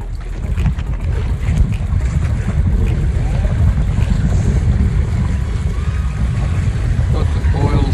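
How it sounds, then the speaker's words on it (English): Wind rushes steadily over a foiling sailboat out on open water, a constant broadband roar with low buffeting and some wave wash, close to the microphone throughout. "Little breeze coming in over off the starboard side."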